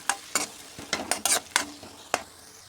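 Spices with tomato pieces and ginger paste fry in a pan and get stirred, with sharp scraping strokes at an uneven pace over a low sizzle.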